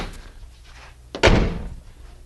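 A vintage Volkswagen Beetle's hood pops open with a sharp metallic thunk after a quiet lead-in, followed by a short rattling decay, close up and fairly loud.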